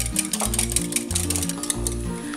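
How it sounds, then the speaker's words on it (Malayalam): Vanilla cake batter with a splash of vanilla essence being beaten by hand in a bowl, giving a steady, close, rhythmic scraping and slapping that runs continuously without pause. "1/2 ടീസ്പൂൺ വാനില എസൻസ് ഇതുകൂടെ ചേർത്തിട്ട് ഇത് നന്നായിട്ടൊന്ന് അടിച്ചു കൊടുക്കാം"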